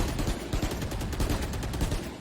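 Rapid, continuous gunfire rattles through a video game, the shots packed into steady bursts at close range with no pause and no voices over it.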